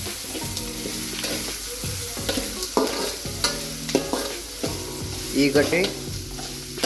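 Onions frying in oil for uppit, a steady sizzle with a spatula scraping and stirring the pan in irregular strokes, close and clear, with a brief spoken word.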